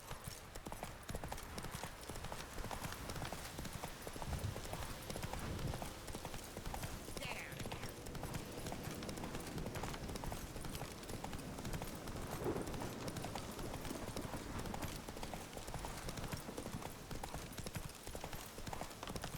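Hooves of the horse Roach clip-clop in a steady galloping rhythm in a video game, running continuously over a soft ambient bed.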